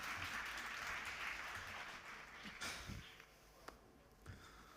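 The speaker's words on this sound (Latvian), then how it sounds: "Sagaidām Mārtiņu ar aplausiem." An audience at a housing conference applauds to welcome a speaker, fairly faint clapping that starts dense and thins into scattered claps before fading out.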